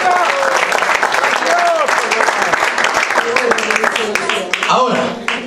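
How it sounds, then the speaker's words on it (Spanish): A church congregation claps loudly and steadily, with whoops and a voice calling out over the continuous applause. "Dale fuerte ese aplauso al Padre, al Hijo y al Espíritu Santo esta noche."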